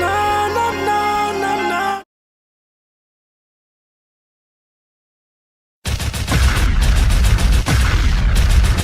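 Gunfire sound effects loud in the background of a music track, a dense rumbling barrage that cuts off abruptly, falls silent for several seconds, then returns with heavy booming shots.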